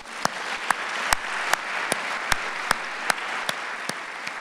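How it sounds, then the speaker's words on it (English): Audience applause at a university event with the U.S. Secretary of Education, heard as a steady wash of clapping with sharper, evenly spaced claps standing out in a regular rhythm; no talking. "Please give him a big round of applause."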